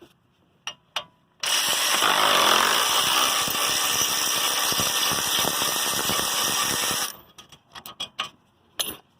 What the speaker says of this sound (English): So now I can use my power tool